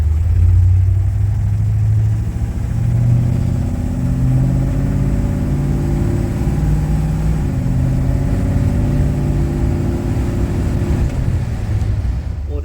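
A deep, throaty V8 exhaust note from a 1969 Ford F-Series truck with a 390 cubic inch engine and an H-pipe exhaust rumbles continuously and loudly, holding a steady low drone throughout without talk.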